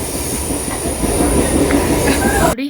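A train rumbles and clatters past close by at a station, wheels squealing and rolling steadily for a few seconds before cutting off abruptly, with no talking.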